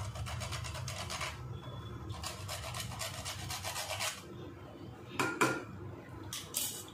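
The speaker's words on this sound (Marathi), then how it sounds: "आता आपण ह्याच्यामध्ये थोडंसं जायफळ टाकूया किसून." Whole nutmeg is grated into a pot of fenugreek and rice porridge with the gas turned off, giving a steady, close, dry rasping scrape. A few clinks of metal cookware break in toward the end.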